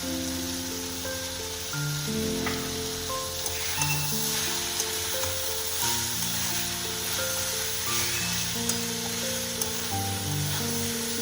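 Red amaranth greens with poppy seeds frying in a pan, giving a steady close hiss and sizzle throughout with faint background tones underneath and no talk.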